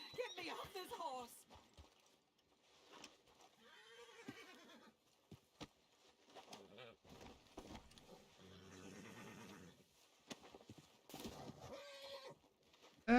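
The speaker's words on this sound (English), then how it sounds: "Get me off this horse!" A spooked horse neighs and whinnies in Red Dead Redemption 2, with hoof clip-clops and nearby talk in between.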